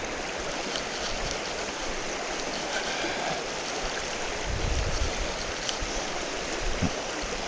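River on the Cape Wrath Trail hiking route rushing steadily in a broad, even wash of water noise, close and continuous with no voices.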